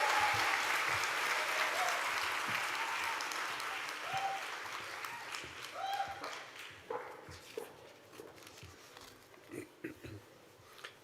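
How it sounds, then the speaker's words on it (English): The audience at a Hult Dubai MBA commencement ceremony applauds in a broad, loud wash of clapping that gradually thins out into scattered individual claps, with a few brief voices rising through it. "Another round of applause for Divya and for our MBA full-time graduates."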